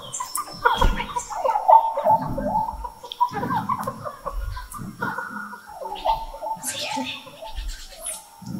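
Chickens clucking and scratching nearby in short irregular bursts, mixed with clattering and rustling sounds, fairly close and moderately loud.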